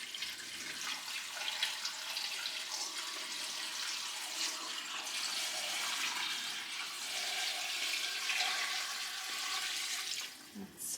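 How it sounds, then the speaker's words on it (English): Tap water runs into a pot for homemade turkey stock, a steady close rushing and splashing that lasts about ten seconds before tapering off. "Now we're going to fill this up with water."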